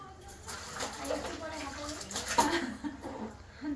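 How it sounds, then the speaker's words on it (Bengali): Raw vegetables are washed by hand in water, with soft sloshing and splashing running under a person talking throughout, plus faint background voices. "তো এখন কাঁচা ধোয়া করতে বসেছি"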